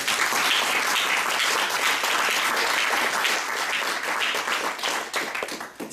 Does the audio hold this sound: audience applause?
yes